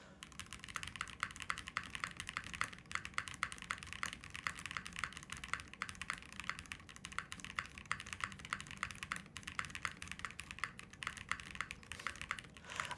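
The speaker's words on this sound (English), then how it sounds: "This is nice with the ABS spacebar. This is a nice spacebar sound." Typing on a Link65 keyboard fitted with an ABS spacebar, a fast, steady run of close, crisp keystrokes with deeper spacebar thocks, alone and quiet.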